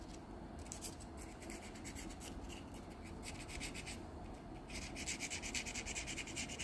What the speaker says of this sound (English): The sandpaper does a pretty good job of getting the grime off.